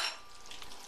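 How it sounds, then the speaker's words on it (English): Green onions stir-fried with a tablespoon in a home kitchen, a soft steady sizzle with faint scraping and stirring, close up and alone, with no talk. "you can stir fry with a tablespoon too"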